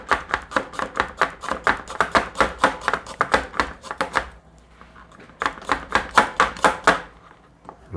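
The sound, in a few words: chopping ginger with a knife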